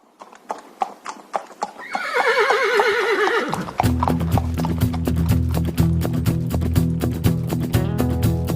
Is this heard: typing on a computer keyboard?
no